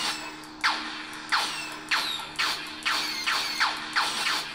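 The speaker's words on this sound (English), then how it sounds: "Blaster bolts." A lightsaber replica with CFX sound board fires blaster-deflection effects: about eight sharp, descending electronic zaps in a steady rhythm, each roughly half a second apart, over a faint humming blade tone.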